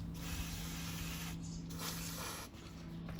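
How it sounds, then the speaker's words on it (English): Brake cleaner sprays from an aerosol can around a banjo bolt on a Saab power steering pump, a soft continuous hiss close by with brief pauses, fairly quiet overall. "I will use some brake cleaner to do so."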